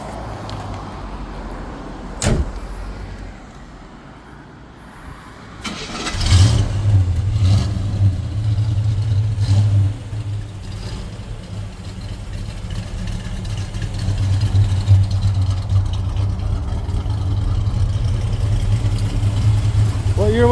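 A 1969 classic truck converted to a 350 engine fires up around the middle and settles into a steady, rumbling idle close by, with brief talk before it starts.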